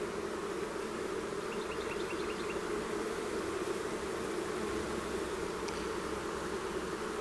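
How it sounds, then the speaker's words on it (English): Honeybees being shaken into a new hive alongside their queen give a steady, dense insect hum throughout, faint and continuous, with a few brief higher buzzing flickers and no talking. "I'm gonna shake a few bees in with her"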